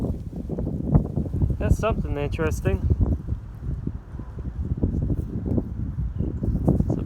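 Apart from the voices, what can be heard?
wind blowing on microphone outdoors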